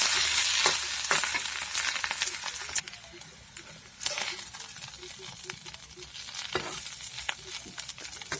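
Fish egg bhurji fries in a pan with a steady sizzle. Quick scraping stirs and clicks cut through it, loud at first and then settling lower.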